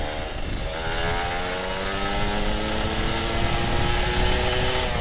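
A Kawasaki Ninja RR 150 motorcycle engine revs up as it accelerates, its rising whine climbing steadily through the gear while the rider's position keeps it loud and close throughout.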